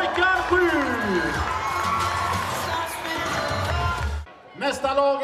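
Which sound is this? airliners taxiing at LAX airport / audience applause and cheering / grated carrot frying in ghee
audience applause and cheering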